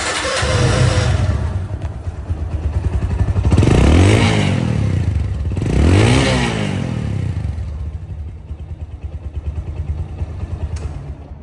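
A second-hand motorcycle's engine runs alone, idling with clattery rumble and revved twice in rising and falling swells before settling back to a steady idle.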